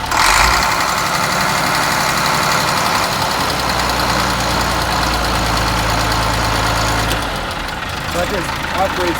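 The engine of a 1955 Ford F600 school bus chassis runs close and loud, rising as the throttle is worked, then dropping back toward idle near the end, while a person talks over it.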